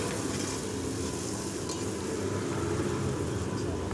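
Chicken curry gravy with coriander powder is stirred in a pan, giving a steady close sizzle with a soft scraping of the spoon and no talking.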